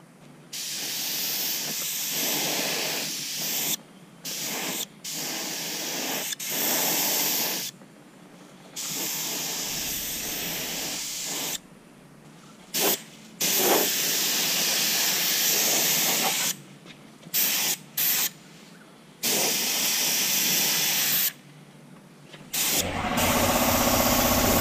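Spray gun laying down clear coat in bursts of steady hissing spray with short pauses between passes, close and loud, no talking.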